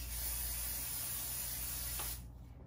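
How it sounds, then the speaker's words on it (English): Stencil adhesive spray hisses from an aerosol can in one steady, close burst lasting about two seconds, then cuts off abruptly. "So I'm going to just spray it and then you let it wait for 1 minute before you put it down."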